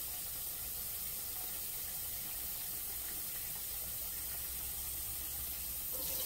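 Tap water runs steadily into a bowl in a kitchen, a continuous close hiss and splash of filling that stays even throughout.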